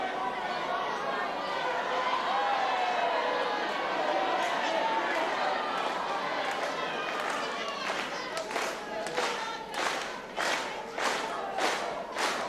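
At a 1970s Giant Haystacks versus Gwyn Davies wrestling bout, the arena crowd murmurs and calls out before settling into a loud, steady slow handclap in unison, with sharp, evenly spaced claps over the continuing hubbub.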